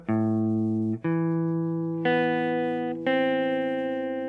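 Four electric guitar notes from a song are picked slowly, starting on the open fifth string, one about every second, each ringing out and sustaining into the next, clean and close.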